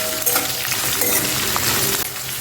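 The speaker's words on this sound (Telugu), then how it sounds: "ఇప్పుడు ఇందులో కొన్ని జీడిపప్పు వేసేయండి ముందుగానే వేస్తే అవి ఎక్కువ వేగిపోతాయి అందుకని ఇప్పుడు వేసుకుంటే లైట్గా వేగుతాయి" Cashew nuts frying in oil in a pan while making ragi upma give a steady close sizzle with light stirring, with no talk over it.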